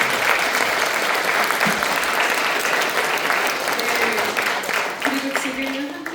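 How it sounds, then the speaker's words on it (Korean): Steady, full applause from a forum audience in a small National Assembly meeting room, a dense wash of many hands clapping that continues evenly and eases slightly toward the end. "귀중한 의견을 나눠주신 발표자, 토론자 여러분을 위해서 다시금 한번 박수 부탁드립니다"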